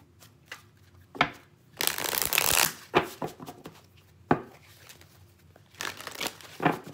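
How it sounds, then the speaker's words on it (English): Tarot cards being shuffled in bursts of riffling and flicking, close and fairly crisp, with short pauses between rounds and no talking. "I'm just going to pull cards and just give you some insight on the week ahead."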